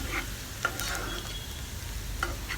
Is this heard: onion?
yes